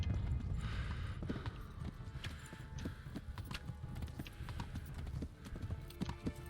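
A horse gallops in the medieval video game Kingdom Come: Deliverance, its hooves striking in a steady, rapid clip-clop rhythm, close and continuous, over a low rumbling game background.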